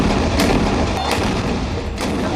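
Heavy booming blasts of 155 mm howitzer artillery fire, several loud thuds over a rumbling background, close and powerful.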